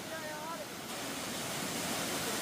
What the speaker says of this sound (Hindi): सबसे बड़ा झरना यही है।